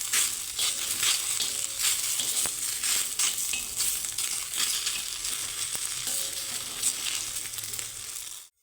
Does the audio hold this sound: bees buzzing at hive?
no